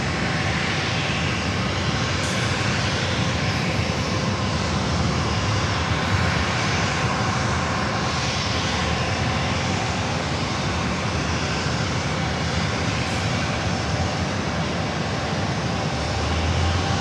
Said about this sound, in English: Swing it around for the Learjet now in short final.